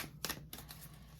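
Tarot cards being shuffled, a couple of quick crisp riffling bursts close by within a second, dry papery snaps over a faint hum.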